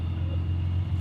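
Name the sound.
Datsun 280Z engine idling with Fujitsubo style muffler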